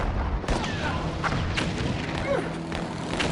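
Grenades blasting at the foot of a barricade in a radio drama about war, a series of booming thuds and bangs over a dense, noisy battle backdrop.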